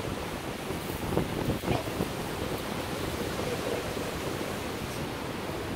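Steady surf from sea waves breaking on a shore, a continuous broad wash of roar with a couple of slightly stronger surges early on, fairly distant and even, no voices.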